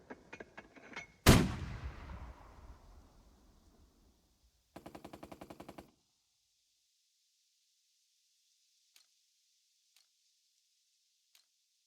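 Gunfire in a turn-based WWII combat game: a sharp, loud blast with a long decaying tail, then a quick rattling burst of automatic fire, followed by a few faint, isolated ticks.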